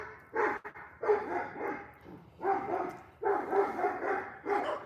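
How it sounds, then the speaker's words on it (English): Neighborhood dogs in the Philippines bark in repeated rough bursts, moderately distant, roughly once a second, with no talk over them. "And now every dog in the neighborhood is barking."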